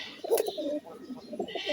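Budapest pigeons kept for sale give a short, low, throaty coo early on, followed by softer murmuring and rustling nearby.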